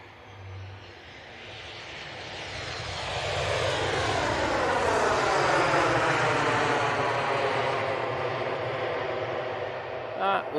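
An airliner arriving at Manchester Airport, its engine roar swelling steadily as it passes close overhead, holding loud for several seconds and then slowly trailing off.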